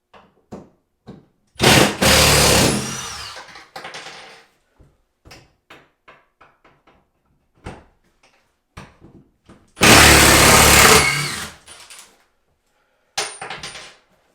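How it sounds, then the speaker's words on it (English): A cordless power tool backing screws out of a bathroom vanity cabinet, with two long loud whirring bursts, many short clicks and knocks from handling in between, and a quiet room with no talking. "So we'll just pull these screws out."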